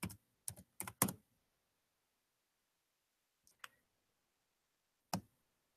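Password typed on a computer keyboard in short bursts of close clicking keystrokes, a quick flurry at the start, then a couple of isolated taps and one final press after a pause, with no talking.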